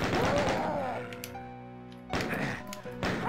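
A gunshot from the classic Doom II shooter game cracks out as a sharp burst at the start, fades into a ringing decay, then a second loud blast hits near the end, with no talking.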